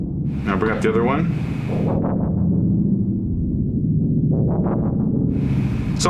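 A portable 5U modular synthesizer patch produces swelling, resonant synth tones layered with echo, pulsing and rising in repeated bursts over a low, sustained drone at moderate loudness.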